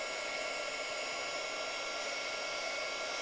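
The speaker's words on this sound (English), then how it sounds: "It is going to be noisy. So once the heat tool heats up, you just move it over your paper." A craft heat embossing tool runs over paper, giving a steady, even, noisy blower whoosh like a hair dryer, constant and close throughout with no voices.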